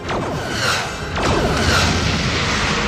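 A torpedo strikes a starship in a Star Trek audio comic, heard as two sweeping whooshes followed by a booming impact and a sustained loud rumbling roar, with no voices.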